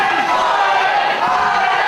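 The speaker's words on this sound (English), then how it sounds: "this crowd are crazy here tonight in Lucan for this main event" A wrestling crowd roars at a live Irish Whip Wrestling main event in Lucan, a dense, steady wall of cheering and shouting that holds loud and unbroken throughout.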